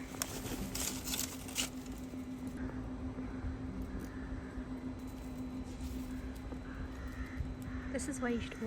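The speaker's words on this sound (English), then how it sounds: "Because I've now got this beautiful murder of crows." A murder of crows calling on a rainy day in the Lake District, with scattered caws over steady rain patter and a constant background hum; nobody talks.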